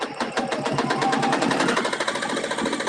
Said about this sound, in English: So I'm going to go ahead and start my sewing.